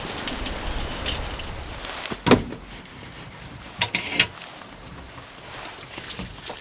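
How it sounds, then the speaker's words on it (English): Steady rain falls on a wet campsite in Alaska, a constant soft patter close by with a few brief knocks and rustles breaking through; no one speaks. "Incessant rain and stubborn clouds meant we were packing down wet today."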